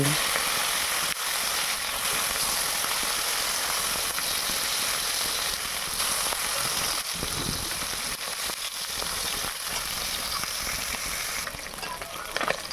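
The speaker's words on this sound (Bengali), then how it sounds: "দেখো বন্ধুরা আমার মাছগুলো প্রায় ভাজা হয়েই গেছে" Pieces of rui fish fry in hot oil in a pan, giving a steady, loud sizzle and crackle that runs unbroken the whole time.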